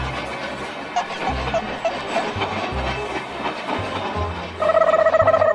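A train rolls past with rhythmic clickety-clack of wheels over rail joints, then a loud, steady whistle-like tone rises near the end.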